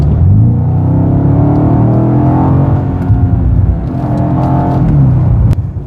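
A BMW M5 in its M2 drive mode, set to maximum attack, accelerates hard: loud, close engine roar that climbs and swells continuously with a rising whir, alone without talk.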